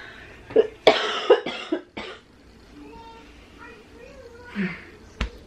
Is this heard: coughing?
yes